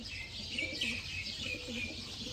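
Soft, low cooing from pigeons kept by a breeder, faint and repeating in short rounded phrases, with a steady background hiss.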